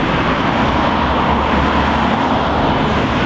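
Road traffic passes at Penrith, a dense, continuous roar of cars and trucks heard close and loud, steady throughout without any talk.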